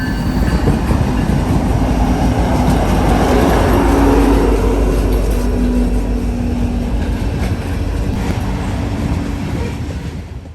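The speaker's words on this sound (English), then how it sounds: "I'm set up here for a loaded grain train heading westbound with 2-9s and an SD-70" A loaded westbound grain train hauled by an SD70ACe locomotive rolls past close by, a loud continuous rumble of heavy cars and wheels that swells in the middle and eases off toward the end.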